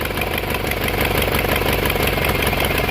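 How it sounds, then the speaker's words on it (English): A John Deere 420 tractor engine idling low, a steady, loud mechanical rumble with an even chugging pulse that holds unbroken throughout. "And now I can actually, set the idle way down."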